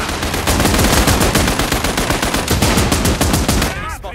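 Heavy machine-gun fire aimed at an enemy vehicle in the video game Last Train Home, a continuous rapid rattle of loud, close shots that cuts off near the end.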